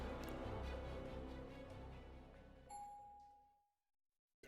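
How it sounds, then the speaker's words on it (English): An elevator chime rings out in the Tsukihime Remake video game, a single clear bell-like tone over a dense background wash that fades away, leaving near silence. "The gentle chime of the elevator shatters the silence"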